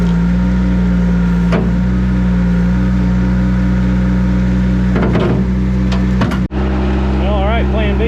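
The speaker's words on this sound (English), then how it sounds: "I'm going to try to back the skid steer up just a little bit" A skid steer backing up slowly, its engine holding a steady, loud droning idle with a few clunks and knocks from the machine, then a brief voice near the end.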